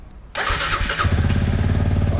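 A Suzuki Gixxer 250 SF engine with an aftermarket silencer cranks and catches abruptly, then settles into a loud, steady rumbling idle close by.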